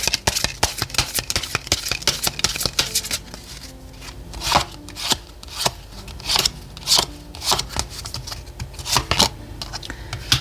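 Lenormand cards riffle and slap as they are shuffled and laid out in a tarot reading, a rapid run of crisp, close flicks and snaps that thins into separate louder slaps, with no voice over them.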